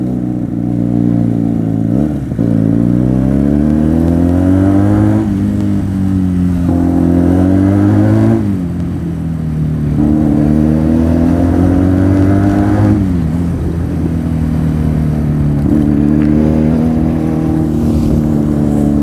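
A Benelli 300 motorcycle engine drones loudly and steadily throughout a ride along a village road, rising and falling in pitch as the rider shifts and changes speed, with no talking.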